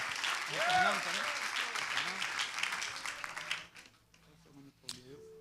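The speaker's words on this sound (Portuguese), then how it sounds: "Uma salva de palmas para Jesus." A church congregation claps in sustained applause during an evening worship celebration, the clapping filling the room at moderate volume beneath voices before fading out, followed by quieter speech and a few scattered sounds.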